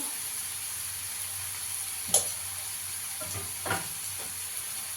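Ground turmeric, coriander and Kashmiri chilli powder frying in a pan for a masala egg omelette, a soft, steady sizzling hiss with a couple of sharp clicks from stirring.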